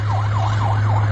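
A siren wails in a steady rising-and-falling cycle, loud and continuous over a low droning hum, with no voices.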